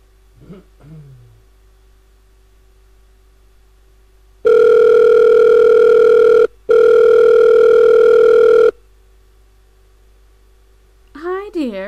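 A cell phone in a point-and-click adventure game dials out, then a steady electronic ring tone sounds twice, loud and close, with a short gap between. Brief game voices come before and after the ringing.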